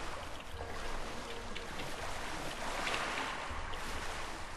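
Continuous watery wash and gentle splashing from a character swimming in the video game Two Worlds 2, steady and fairly even with a brief swell near the end, no talking.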